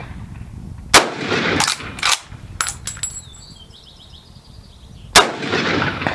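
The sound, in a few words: cycling the action of an 1895 Russian carbine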